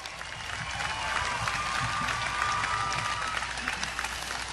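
Sustained applause from a large commencement audience, a steady dense wash of clapping with crowd noise and a faint whistle-like tone running through it, continuous for the whole span.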